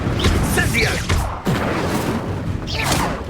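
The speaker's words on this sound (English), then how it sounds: "Incendio!" An Incendio fire spell cast in the wizarding game Hogwarts Legacy: a dense, loud whooshing blaze with crackling bursts and impacts roars steadily through a heated battle, with voices over it.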